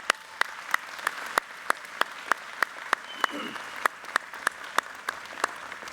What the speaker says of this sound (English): Let's give them a big round of applause to thank them.